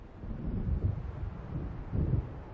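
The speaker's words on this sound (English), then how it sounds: "It seems there's a storm coming." An approaching thunderstorm in the video game Alan Wake Remastered: low rolling rumbles of distant thunder swell twice over a windy, murky background, deep and muffled, no speech.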